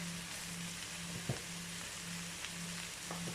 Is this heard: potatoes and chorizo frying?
yes